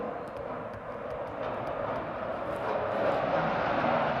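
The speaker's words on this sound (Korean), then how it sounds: "굉장히 지금 비행기 소리 엄청나죠?" An airplane passing overhead near a school makes a broad, steady roar that swells slightly louder toward the end, with no talk.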